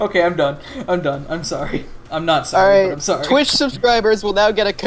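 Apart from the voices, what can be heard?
No distinct noise like a dog, phone or traffic.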